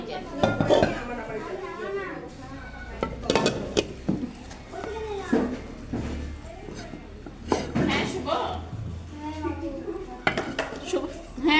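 Plates and bowls clink and clatter as food is set out in them, in close repeated bursts, while people talk throughout.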